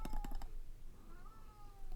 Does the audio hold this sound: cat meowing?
yes